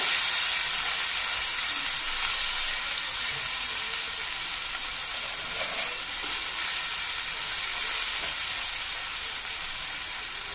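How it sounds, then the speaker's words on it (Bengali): Ground spices with turmeric and chili powder fry in a pan. A loud, steady, close hissing sizzle runs unbroken through the clip with faint stirring under it and no voices. "1/3 টিস্পুন দিয়ে দিলাম হলুদ গুঁড়ো, হাফ টিস্পুন দিয়ে দিলাম লঙ্কার গুঁড়ো। এবারে মশলাটাকে একটু কষিয়ে নেব।"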